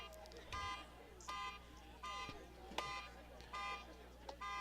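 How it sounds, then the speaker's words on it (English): A car alarm near a high school football field, its repeating electronic tone cycling in regular bursts over the crowd and field ambience. "Somebody's car alarm starts going off,"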